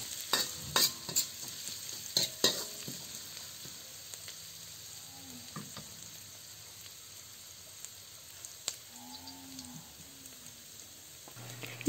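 Sliced garlic sautéing in a pan for chicken tinola, a soft sizzle under sharp clicks and scrapes of stirring, louder early then settling into a low hiss.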